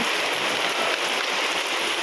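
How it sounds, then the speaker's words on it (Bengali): Heavy rain pouring steadily during a downpour that brings flooding, a dense, even hiss of falling water with no voices. "এত জোরে জোরে বৃষ্টি হচ্ছে"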